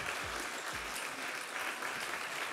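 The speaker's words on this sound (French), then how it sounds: "On peut les applaudir encore une fois." An audience applauds table tennis players after a match, a steady, moderately loud wash of clapping that runs without pause, with a few low thumps near the start.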